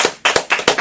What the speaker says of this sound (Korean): 아, 박수를 한번.